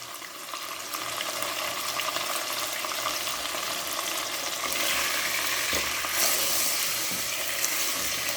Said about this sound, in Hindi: अब इस वक्त मैं इसमें हाफ़ टी स्पून नमक डाल के इसको फ्राई कर लेना पहले।